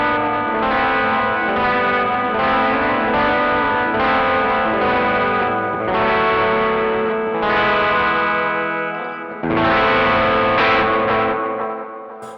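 Electric guitar through a Caline CP80 Ragnarok delay and reverb pedal, sustained chords with washy echoes and reverb tails blending together, loud and continuous with one brief dip before a fresh strum.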